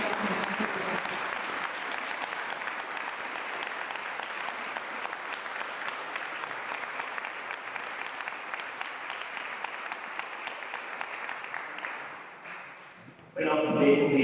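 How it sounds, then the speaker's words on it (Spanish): A seated audience in a church applauds the local Women's Association at a book presentation, sustained dense clapping that fades out near the end before a voice begins speaking. "ahora sí que voy a pediros un aplauso para la Asociación de Mujeres de aquí"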